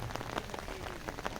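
Rain falls in Kashi, Varanasi, a short steady patter of drops striking surfaces close by, with no voices.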